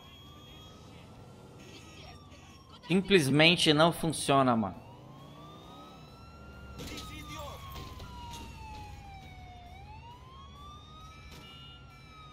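A GTA 4 ambulance siren wails in slow, sweeping up-and-down cycles through the whole stretch, fairly quiet beneath a burst of loud talking near the start and lighter engine noise.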